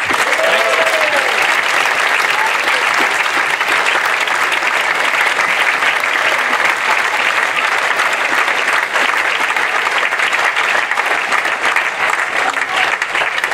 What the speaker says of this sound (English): So can we have a massive round of applause, please, for Lucas Aiken.